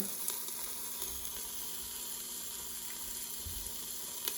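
Osso bucco veal shanks browning in a hot pan give a steady, moderately loud sizzle that holds throughout, with a low background hum and no talking.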